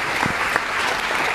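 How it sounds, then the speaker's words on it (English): Applause from a classroom or lecture audience, a steady dense patter of many hands clapping throughout, fairly close and even in level. "So a round of applause for our players."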